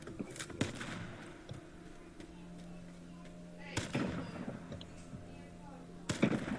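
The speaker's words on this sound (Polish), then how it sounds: "Ej, on strzela do mnie." Gunfire in the battle royale game H1Z1: a few sharp, separate gunshot bursts at the start, near four seconds and near six seconds, over a low steady game background.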